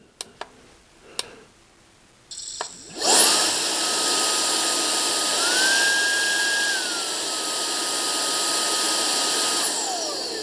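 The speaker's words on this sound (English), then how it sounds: "So the motor will suck air through the front here. Dust get trapped and then exhaust through the side." A Brigii H5 140W handheld vacuum cleaner switches on after a few clicks and runs with a loud, steady high-pitched motor whine and airy rush, shifting pitch briefly before settling, close to the listener.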